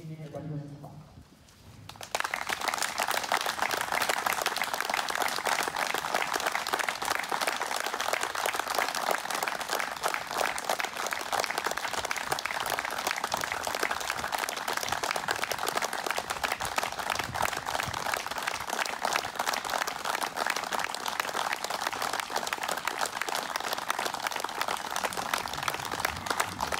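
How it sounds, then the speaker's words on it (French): Minutes of applause held in memory of Dominique, a large crowd clapping steadily and densely without pause after a brief quieter moment at the start, loud and sustained. "merci de bien vouloir respecter les minutes d'applaudissement."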